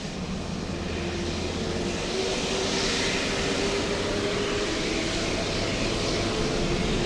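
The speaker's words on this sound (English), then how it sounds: "That's American 136 flying to London." American Airlines jet taking off from LAX, a steady, broad engine roar that holds at an even level at a distance throughout.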